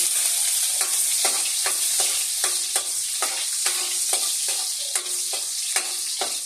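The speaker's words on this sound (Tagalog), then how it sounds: "lagay na po natin ang ating bawang" Garlic dropped into hot oil for a simple pakbet, producing a bright continuous sizzle with rhythmic stirring scrapes repeating about once a second, close and loud, with no speech.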